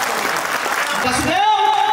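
Audience clapping at a Hindi poetry gathering, a dense burst of applause mixed with a voice that rises over it toward the end.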